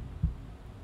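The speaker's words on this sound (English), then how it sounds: "I can feel my heartbeat." A single deep, muffled heartbeat thump lands once against a low hum in the Omori video game, brief and close.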